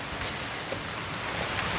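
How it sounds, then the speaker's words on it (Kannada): Steady rain falls in a dense, even hiss at night outdoors, moderately loud and unbroken, with no voices. "ಮಳೆ ಬರ್ತೈತೆ"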